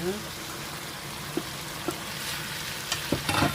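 Red chili goes into a pan of stir-fried spicy pork and squid, which sizzles steadily while a few soft stirring clacks and scrapes of the utensil ring out close by.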